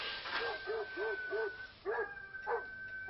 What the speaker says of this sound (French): Un chien, maintenant.